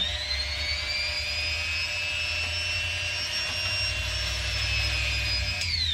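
A Wen Model 23114 rotary tool spins a small brush attachment at high speed, giving a loud, steady high-pitched whine with a low motor hum that holds for about six seconds before briefly dropping at the end.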